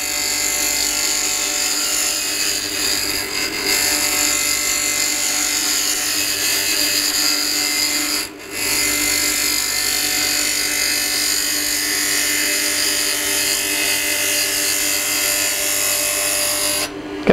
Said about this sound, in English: I'm going to change now to my small round nose scraper. I only want to take a very small amount off